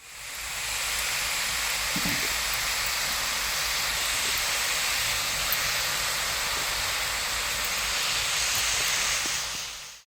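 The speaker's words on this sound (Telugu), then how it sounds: "నూనె వేడిగా ఉంటే వేయడంతోనే వేగిపోతుంది కారపూస" Karapusa, a crispy rice-flour snack, fries in hot oil with dense, steady sizzling and hissing that runs unbroken and loud throughout, close up with no talk.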